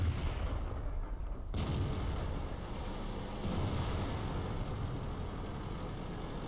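Tank cannon fire from an Object 907 in World of Tanks booms out during a town battle, with a couple of sharp shot cracks over a constant rumbling engine-and-battle din, loud and close.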